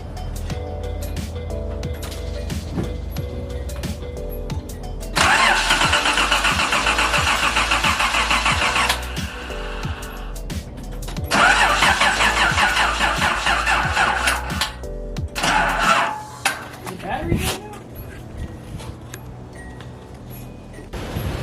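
Nissan 280ZX engine being started in freezing weather, the starter cranking for several seconds twice, with a rough rumble in between and a sputtering catch near the end, loud and close.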